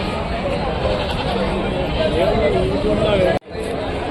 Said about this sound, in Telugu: మేకపోతు.